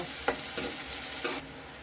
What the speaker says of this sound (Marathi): कांदा ना एकदम लाल होईस्तोवर असा खरपूस भाजून घ्यायचा। गोल्डन कलर येईस्तोवर कांदा भाजून घ्यायचा।